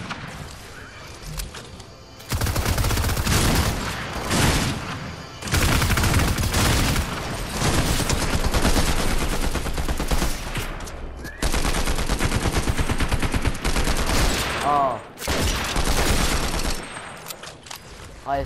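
A gun fires in an underwater survival video game: loud, rapid bursts of automatic fire that sound almost continuously, broken by a few short pauses.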